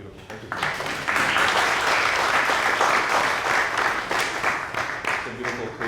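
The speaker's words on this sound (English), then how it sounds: "how about one more round of applause for her?" An audience at a panel event applauds: dense, sustained clapping swells after a softer start and keeps a full, steady wash before tapering slightly at the end.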